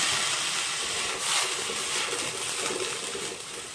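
Water splashed into a pan of mushrooms, a steady wet hiss and sizzle of steam spreading through the whole stretch, moderately loud and close with no talk over it.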